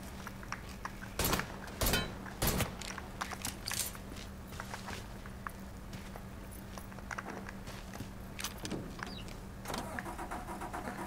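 A truck engine cranks and catches in Mafia III, with a few sharp starter bursts early on, then a steady low idle hum beneath scattered mechanical clicks and game sounds.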